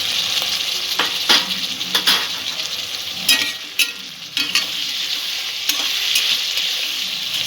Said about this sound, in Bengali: আদা রসুনের যে পেস্ট তৈরি করেছিলাম, সেইটা কিছুটা দিয়ে দেবো।